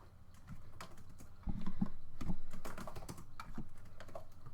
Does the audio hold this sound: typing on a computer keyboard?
yes